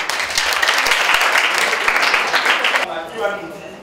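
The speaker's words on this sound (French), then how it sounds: "Applaudissements." Applause from a classroom audience in Burkina Faso, a dense, steady patter of many hands lasting about three seconds before cutting off as a voice begins speaking.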